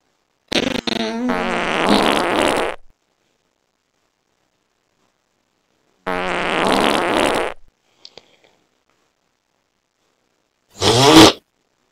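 A fart button plays recorded fart sound effects: two long, loud raspy blasts several seconds apart, a couple of tiny clicks, then a short sharp burst at the end, each separated by silence.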